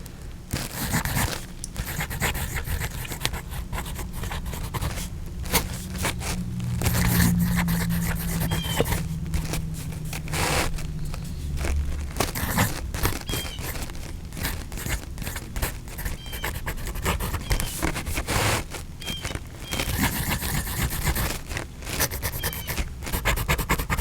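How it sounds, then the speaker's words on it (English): A Waterman Carene fountain pen with an OF nib writes on paper, giving a close, continuous dry scratching broken into short, irregular strokes and pauses. "Now let's listen to the nib on paper."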